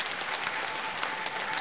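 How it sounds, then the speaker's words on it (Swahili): A large crowd applauds the President with sustained, even clapping that fills the space steadily. The applause sounds dense and continuous, heard at a public address before the Prime Minister in Dar es Salaam. "Naomba tumpigie makofi mengi sana pia Mheshimiwa Rais."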